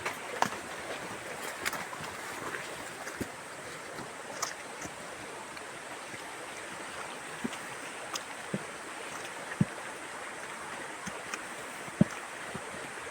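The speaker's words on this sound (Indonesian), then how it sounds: "Sungai pertama." A river flowing beside a mountain trail on Mount Patah, a steady faint wash of running water with scattered small splashes and clicks, fairly distant and without talk.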